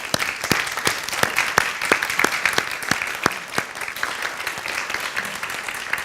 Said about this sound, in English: Let's give another big round of applause for Seung-suk.